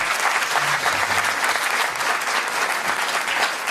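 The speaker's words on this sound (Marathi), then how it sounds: "एकदा टाळ्या ऋषिकेश आणि ऋषिकेशच्या टीमसाठी" A crowd at a World Parkinson's Day gathering applauds a team, a loud, even wash of clapping that holds steady for several seconds with no voices over it.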